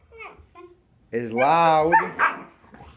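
A young puppy gives a couple of short high yips, then a long rising whine that breaks into a bark, close and fairly loud, with a brief voice heard near the end.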